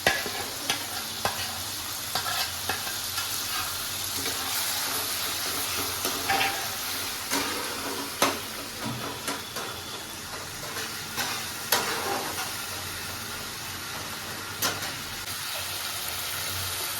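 Spices for rui fish kalia, a Bengali fish curry, fry in hot oil in a pan with a continuous sizzle. Repeated sharp scraping and clacking strokes from stirring punctuate the sizzle throughout.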